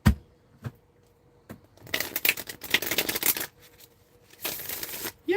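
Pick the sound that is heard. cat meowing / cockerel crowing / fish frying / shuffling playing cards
shuffling playing cards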